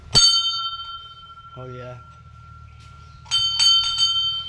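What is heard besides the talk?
temple bell ringing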